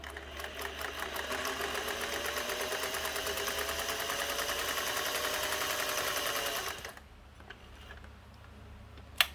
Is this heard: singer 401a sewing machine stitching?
yes